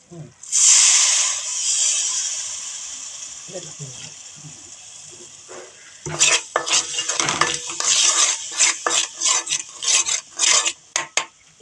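A spoon scrapes and clinks repeatedly against a container in quick, uneven strokes while mixing cucumber pickle with vinegar, following a brief burst of hissing at the start.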